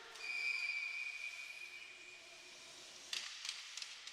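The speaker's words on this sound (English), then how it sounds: "Now a whistle blows the play dead." A referee's whistle at a college club ice hockey game between BGSU and Cincinnati sounds as one long steady blast near the start, fading under arena noise, followed by a few faint clatters.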